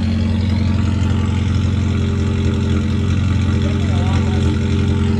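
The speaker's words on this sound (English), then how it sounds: "we're gonna see how it sounds without the damn muffler" Unmuffled Subaru postal car engine idling in park, a loud, steady, tractor-like rumble with dense low harmonics and a constant drone throughout, close and alone.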